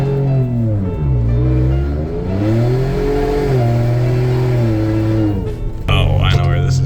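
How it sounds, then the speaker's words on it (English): Ford Bronco doing a four-wheel-drive launch on ice, its engine revving up and down in rising and falling sweeps, loud and close, ending with a sharp burst of tire and engine noise. "Four-wheel drive launch."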